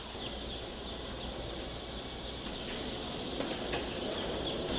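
Black star chickens, a cross between a barred rock pullet and a Rhode Island red cockerel, cluck softly amid a dense, steady background hum of a flock, fairly faint and without speech.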